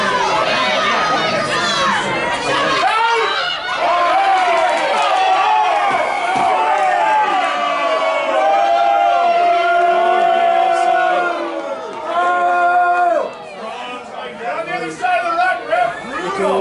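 Spectators in the stands at a women's rugby match between Capilano and Westshore voice displeasure at a referee's call, loud overlapping crowd chatter, shouts and jeers rising and falling throughout, with a commentator talking over it.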